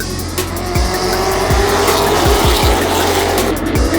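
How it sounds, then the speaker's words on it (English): Stock cars race around a one-third-mile short track at night, engines roaring loud and close in a dense, continuous wall of sound, with repeated descending whooshes as cars sweep past. "Full night of stock car racing."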